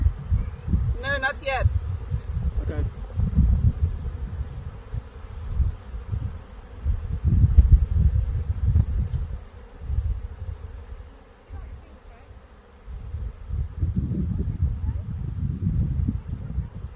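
Swarm of honey bees buzzing around a branch, a dense steady low drone close by, with people talking intermittently over it.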